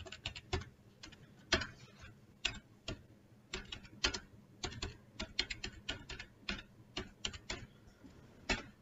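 Typing on a computer keyboard to create a simple text file on Linux: a steady run of close, crisp key taps with uneven rhythm and occasional heavier strokes, with no voices.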